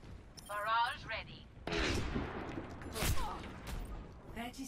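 Pharah's rocket barrage ultimate in Overwatch, a rapid series of loud rocket blasts and explosions bursting in clusters, mixed with game voice lines and other in-game effects.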